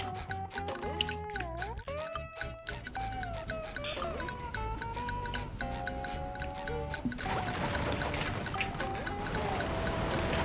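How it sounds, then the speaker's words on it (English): A loud waterfall in the video game Battle for Bikini Bottom rushes as a steady wash of noise, joined by melodic game music and chirpy effects before the water swells louder toward the end. "that's kind of a loud waterfall, isn't it?"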